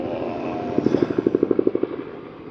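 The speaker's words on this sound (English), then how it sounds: "This is the helicopter people." A helicopter passes overhead, its rotor producing a quick series of about a dozen rhythmic thumping pulses over a low engine drone that swells and then recedes.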